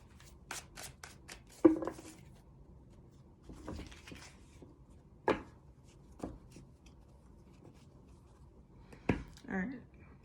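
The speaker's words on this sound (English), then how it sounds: "Just doing a little shuffle." Tarot cards are shuffled in short, crisp riffles and taps, a handful of separate bursts spread out with quiet gaps between them, close by, with a voice speaking in places.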